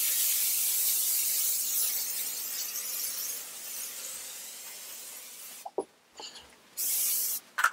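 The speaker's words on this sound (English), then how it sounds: "About to Lysol the couch." Lysol disinfectant aerosol sprayed onto a couch, a steady close hiss running several seconds before stopping, followed by a few soft clicks and a short final burst of spray.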